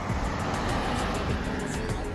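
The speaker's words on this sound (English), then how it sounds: "Cars passing by, sorry," Cars passing along a residential street in Corpus Christi, Texas: a continuous, fairly loud broadband wash of traffic noise with a rising and falling whoosh, and no clear voices.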